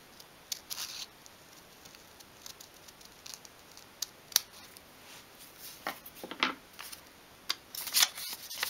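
Scissors cut a curved template shape out of paper for a 1/12th scale display cabinet, giving soft, close snips and ticks that come in irregular bursts over quiet background.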